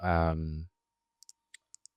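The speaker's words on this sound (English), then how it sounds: "basically click I on your keyboard and then head to sections" A voice speaks briefly, then after a pause five sharp, quiet mouse clicks on a computer tap out in an uneven rhythm, close and isolated against silence.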